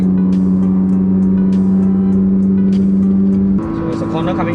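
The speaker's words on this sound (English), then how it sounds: "We are currently cruising at 120 km per hour." A car cruising on a highway at 120 km/h gives a steady loud engine and road drone that shifts in pitch near the end, with no other distinct sounds.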